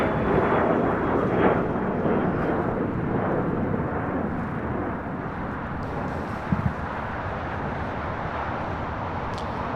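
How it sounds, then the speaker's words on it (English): A Boeing 787-9 Dreamliner bound for Tel Aviv at LAX, producing a broad, loud jet roar that rumbles steadily and slowly eases off. "heading back to Tel Aviv on a 787-9 Dreamliner"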